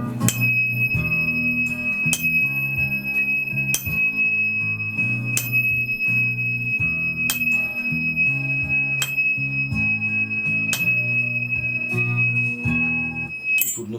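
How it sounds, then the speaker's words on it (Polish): A steady, clear tone from a tuning fork pitched to E holds unbroken throughout, sitting above gentle ambient music whose chords are struck every couple of seconds. "Dźwięk tonacji E."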